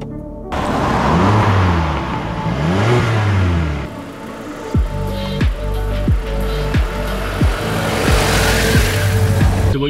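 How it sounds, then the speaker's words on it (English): A 2021 Mazda CX-9 Touring SUV with the premium package starts and runs, rising and falling revs in rapid sweeps, then a steady idle marked by evenly spaced pulses, loud and close. "To start the car, all you gotta do is put your foot on the brake, hit the start button."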